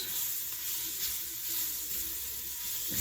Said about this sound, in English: We're going to mix this around.